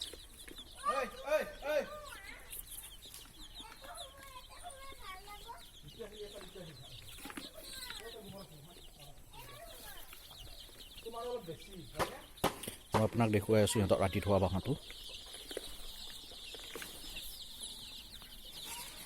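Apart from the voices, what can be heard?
chickens clucking in a room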